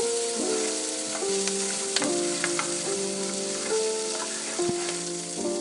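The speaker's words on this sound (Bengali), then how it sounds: "এই রান্নার জন্য মাছটাকে হালকা ভেজে নিতে হবে" Marinated katla fish frying in hot oil for a Bengali doi katla, a steady close sizzle with faint crackles and small pops running throughout, no voices.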